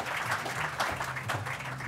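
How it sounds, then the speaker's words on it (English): Audience applauding a panel at a startup event, dense clapping throughout with music playing underneath. "Let's give these guys a round of applause."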